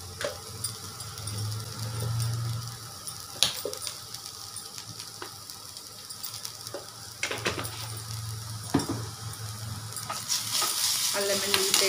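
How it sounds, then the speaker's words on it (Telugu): Ginger garlic paste frying in a pan, a continuous close sizzle with scattered spatula clicks and scrapes, a low hum underneath and a brighter hiss at the end, no talking. "అల్లమెల్లి పేస్ట్ స్మెల్ పోయేదాకా కొంచెం వేగనివ్వాలి, పచ్చివాసన పోయేంత వరకు"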